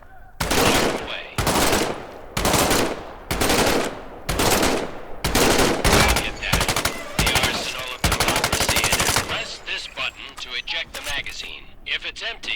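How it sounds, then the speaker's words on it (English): An M1A1 submachine gun firing in the video game Medal of Honor: loud, close bursts of rapid automatic fire in repeated strings of about a second each, ending in a longer burst that trails off into mechanical rattles. "Reach over your shoulder and grab your M1A1 submachine gun."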